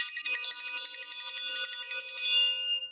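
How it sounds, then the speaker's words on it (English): A bell rings with a bright, sustained metallic shimmer, loud and close, holding for over two seconds before fading out, with no one talking. "I'm ringing the bell for that."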